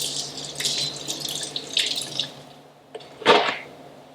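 Kitchen tap running while fresh basil leaves are rinsed, a close, steady splashing flow that fades out, then a short sharp gush near the end, with no talk.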